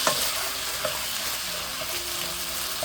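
Tomatoes, onions and kidney beans sauteing in a pan for rajma curry, a steady soft sizzle with occasional stirring scrapes, close and continuous with no talking.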